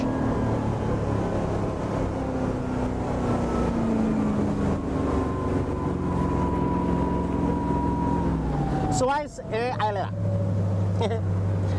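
The outboard motor of a 2010 Cobalt 222 boat strains loudly as the trim goes down and speed slows, a steady drone whose pitch slowly sags, with a brief voice near the end.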